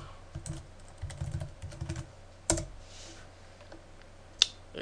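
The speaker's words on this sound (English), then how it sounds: "Now if I type in OpenOffice" Keys clatter on a computer keyboard while a search is entered into a Fedora 13 software installer, a close run of quick irregular taps with a couple of sharper isolated clicks later, no voices.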